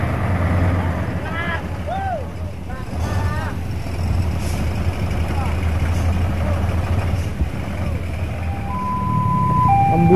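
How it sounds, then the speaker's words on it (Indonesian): An ambulance speeds past amid heavy traffic, near truck-mounted boom cranes at a rescue operation, with a loud steady engine and road rumble and short siren-like tonal sweeps, while voices talk over the scene. "Ini kita terlihat ada ambulan yang melaju kecepatannya."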